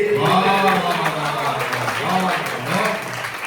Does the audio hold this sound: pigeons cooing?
no